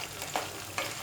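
Sliced okra frying in hot oil gives a soft, steady sizzle with a couple of faint spattering pops, heard briefly and alone.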